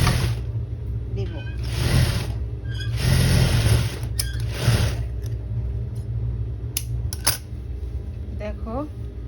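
Sewing machine stitching a neckline seam on a garment, running in several fast whirring bursts separated by pauses and small handling clicks, close and fairly loud.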